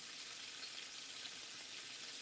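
Whiting fish frying in oil in a Tefal pan, a steady, even sizzle with a bright hiss that holds constant throughout, fairly quiet and with no voices over it.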